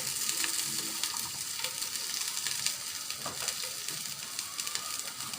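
Garlic cloves and dried red chillies sizzle steadily in hot oil in a pan for beef kala bhuna, a continuous close frying hiss with occasional crackles and no talking.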